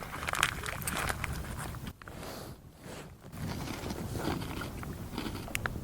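A canoe is paddled down the Ganges river, with close, rough splashing and knocking of the paddle strokes, a brief quieter lull midway, and wind buffeting the microphone.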